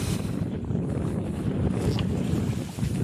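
A sail being hauled up on a sailing boat out on the water, with steady wind buffeting the microphone and broad rushing noise throughout, no clear individual rope or canvas sounds standing out.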